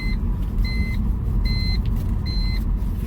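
A 2006 BMW Z4 on a road test drive after a coolant leak repair, with steady road and engine rumble from inside the cabin and a repeating two-tone electronic chime beeping several times over it.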